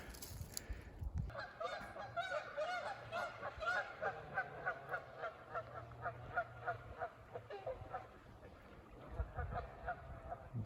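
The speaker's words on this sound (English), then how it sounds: "A bunch of Canadian geese have landed." Canada geese honking, a pair calling in a rapid repeated series of loud nasal honks close by, tapering off near the end amid faint outdoor background.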